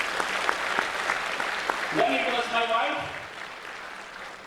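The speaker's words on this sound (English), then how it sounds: "Please give a round of applause to that lady." An annual day audience in a hall claps steadily for an honoured woman, a soft continuous applause that carries on beneath someone speaking partway through.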